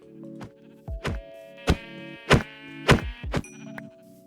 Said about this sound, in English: now I have just found some sheep, and I'm getting distracted because I'm going to go smack the sheep.